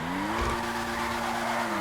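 A Pariah sports car in GTA 5 drifts across an airfield, its engine holding a steady loud drone with tire squeal layered in throughout, close and continuous.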